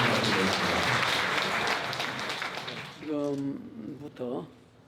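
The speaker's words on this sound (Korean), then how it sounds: "아름다운 신부님께 큰 박수 부탁드리겠습니다" Wedding guests applaud the bride in a loud, dense burst of clapping that fades over about three seconds, followed by someone speaking.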